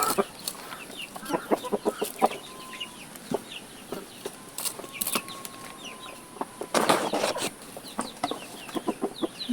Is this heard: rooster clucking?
yes